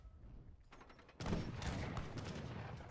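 Mortars fire in the Age of Empires III real-time strategy game during a siege on walls and a fort: a sudden loud blast kicks in midway, followed by a dense, continuous rumble of overlapping shots and impacts.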